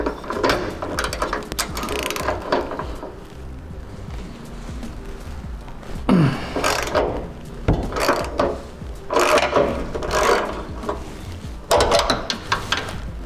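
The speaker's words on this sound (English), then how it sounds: "So we're gonna start by taking off the 2 hangers at the rear." Exhaust hangers being worked off underneath a MK6 Golf GTI during a catback exhaust swap: close, irregular clanks, ratchet clicks and metal scrapes in scattered bursts, with one sharp squeak midway.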